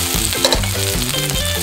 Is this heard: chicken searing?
yes